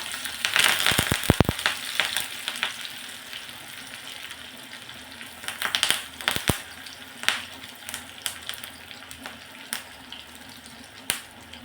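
Green chillies and curry leaves dropped into hot oil with mustard seeds for a tempering, giving a close, steady sizzle broken by sharp crackling pops that burst early and then settle into scattered spits.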